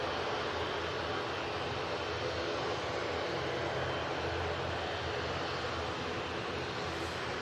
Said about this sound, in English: Next out will be the ATR 72 in the Aer Lingus.